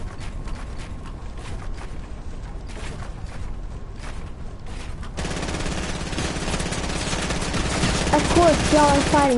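Gunfire in a video game 1v1 match: rapid bursts of shots cracking in quick succession, growing denser and louder in the second half, with talk mixed in.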